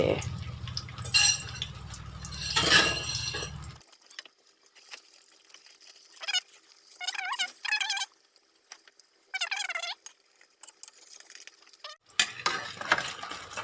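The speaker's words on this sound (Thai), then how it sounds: "จากนั้นเราก็จะเทไข่ที่เราตีไว้เมื่อกี้ เราก็เทลงไปเลย" Beaten egg hits hot oil for a Thai spicy omelette salad, giving a loud, close sizzle for the first few seconds that then drops to faint spatter while someone talks.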